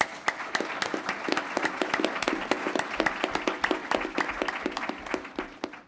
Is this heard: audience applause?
yes